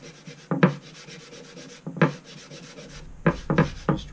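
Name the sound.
rubbing finish into a mulberry wood cutting board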